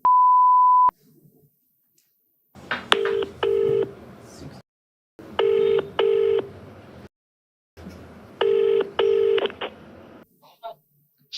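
A telephone number is dialed in DTMF tones after a short steady beep, in three bursts of crisp keypad tones separated by pauses, with faint background murmur between them.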